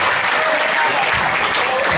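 Students clap at an Isra' and Mi'raj celebration at SMAN 6 Cirebon, a loud, dense and even burst of applause from a large audience, with a faint voice blended underneath.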